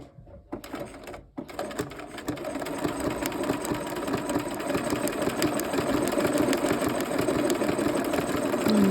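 A sewing machine stitches a quilt block in maroon thread, running nearby in a steady fast whir that starts after a few short stops and then keeps going without a break.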